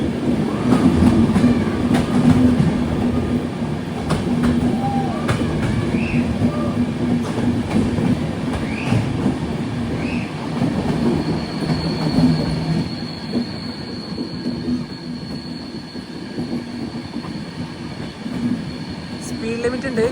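A Poorna Express sleeper train on the Pune to Ernakulam route runs through a rail tunnel near Dudhsagar, with a loud, steady rumble of wheels and carriages throughout and a thin metallic squeal in the later part.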